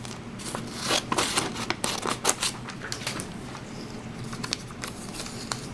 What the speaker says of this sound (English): first you take your paper cutting scissors, and you're just going to want to cut out your template